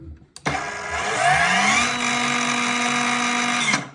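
A Parkside Performance PPTSA 20-Li A1 cordless plunge saw starts with a soft-start whir that climbs in pitch, then holds a steady, loud high motor whine before cutting off.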